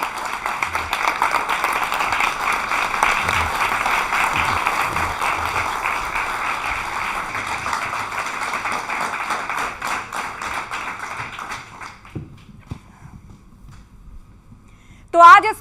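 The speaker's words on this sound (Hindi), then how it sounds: "जोरदार तालियों के साथ बहुत बहुत स्वागत है आपका हमारे स्टूडियो में।" Sustained applause from a studio audience welcoming a guest to a Hindi interview program, dense and steady for about twelve seconds before cutting off abruptly into near silence.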